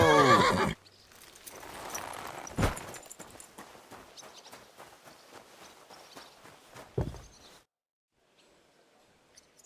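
Horse in the video game Kingdom Come Deliverance 2 gives a loud whinny at the start, followed by a steady run of hoofbeats with a couple of sharp snorts or stamps, fading to quiet at the end.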